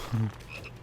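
A single short, low frog croak rings out from the Final Fantasy VII Rebirth video game, followed by soft ambient tones, with no one speaking.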